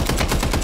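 Rapid gunfire in Counter-Strike on the Nuke map, a brief burst of several quick repeated shots, close and loud.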